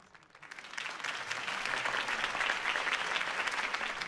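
A crowd's steady applause after a campaign speech in a Batman Telltale game swells in within the first second and holds as a dense, even wash of clapping, fairly close and unbroken.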